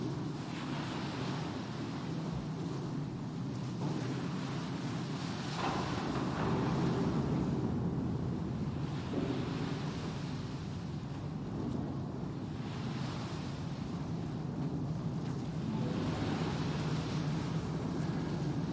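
A ship sinks below the waves in a video game, with a broad, steady roar of surf and wind-like rumble that swells and recedes at a constant moderate level, with no voices.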